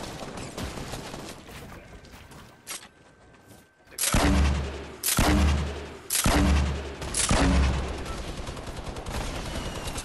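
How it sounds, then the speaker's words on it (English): Gunfire in the battle royale game Fortnite: four loud, evenly spaced heavy shots ring out, each with a booming low end and a decaying tail, after a quieter stretch of in-game sound. "Oh, I'm getting shot down from below."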